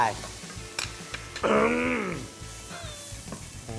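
Food stir-fried in a pan with chillies and a small splash of fish sauce, a steady close sizzle with scraping stirs, under a voice that moans and talks over it.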